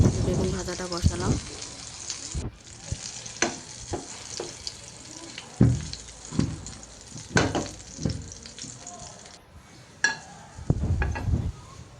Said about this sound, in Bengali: এখন বেগুন ভাজিটা করে নিই। বেগুন ভাজাটা বসালাম।